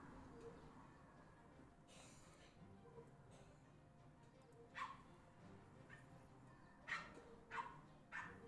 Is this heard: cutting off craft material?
no